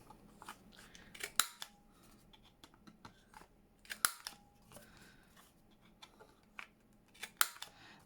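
Paper corners are rounded for a junk journal, giving three crisp, sharp snips of a corner-cutting tool spaced a few seconds apart, with soft paper handling rustles between, close and with no voices.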